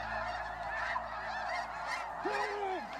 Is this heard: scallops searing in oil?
no